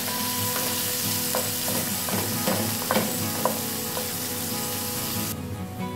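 Onion and garlic sizzle steadily in a hot frying pan, with a few stirring scrapes and clinks over the constant hiss, loud and close, with no voices.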